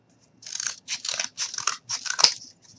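A piece of cardboard being cut with scissors to make a seat, heard as a series of about six close, crisp crunching snips in a steady rhythm, with no voices.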